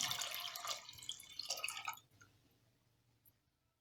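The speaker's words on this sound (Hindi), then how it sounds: "अब इसमें हम थोड़ा सा पानी और डाल देते हैं।" Water splashes and trickles into a pot of dal for about two seconds, a close, bright pouring sound that quickly stops, leaving a few faint drips in near silence.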